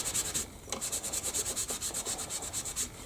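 Rhythmic back-and-forth rubbing of a light finish coating onto scrap wood, steady close strokes with a hissy, sanding-like texture repeating about every quarter second, no talking.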